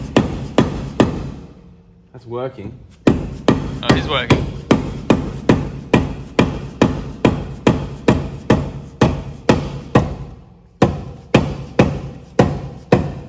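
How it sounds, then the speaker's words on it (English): Repeated loud hammer blows on the brake drum of a Daihatsu Fellow ZM360 two-stroke, struck in a steady rhythm of sharp metallic clanks, with a short pause and a brief exchange of voices near the start. "Hit it with a hammer."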